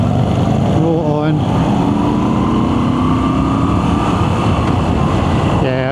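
A Moto Guzzi V7 Stone motorcycle rolls on in third gear, its engine droning loud and steady throughout with rising harmonic tones near the start and end, wind rush heavy in the background.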